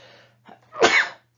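One loud, close human sneeze, a short breathy intake followed by a sharp explosive burst that quickly fades to silence.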